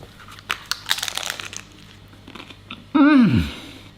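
Crunchy bites of a budget Cajun chicken taco with lettuce, citrus yogurt and onions, heard as close chewing and crinkling over about three seconds, then a brief voiced sound at the end.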